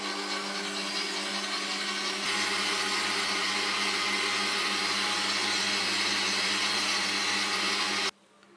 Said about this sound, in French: Dans la cuve d'un robot, je vais mélanger le sucre avec les œufs.